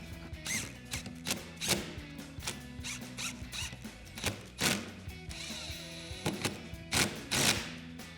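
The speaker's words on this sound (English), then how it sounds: "Now we can tighten this down with our T25 Torx bit." Power driver with a T25 Torx bit tightening a screw on an Amp Research PowerStep Xtreme running board on a 2019-2024 RAM 1500, a series of short ratcheting whirs in repeated bursts, close and fairly loud.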